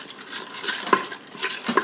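A spoon stirs a mix of salt, pepper and minced garlic in an Instant Pot, making soft scraping swirls and two brighter metallic clinks against the pot, close and quiet, with no talking.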